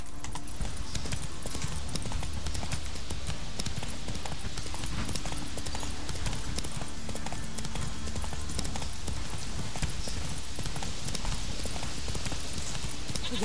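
Steady clip-clop of horse hooves walking at an even pace, continuous and fairly close, over a busy background of game ambience in The Witcher 3: Wild Hunt.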